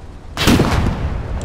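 A single heavy artillery blast in the war game Foxhole, a loud close boom with a rumbling tail that lingers for about a second.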